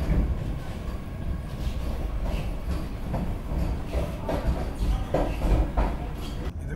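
A Vande Bharat Express travels at speed between Jabalpur and Bhopal. A steady, close rumble and rattle of the moving train carries on without break, with faint clicks and knocks rising here and there.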